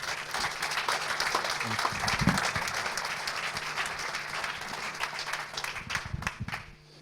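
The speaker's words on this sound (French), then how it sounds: "On peut l'applaudir" An audience at a medical conference day on aortic endoprostheses applauds a presenter, a steady wash of many hands clapping at moderate volume that thins out toward the end.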